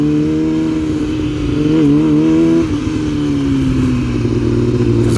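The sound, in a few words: Yamaha R6 motorcycle riding in empty lot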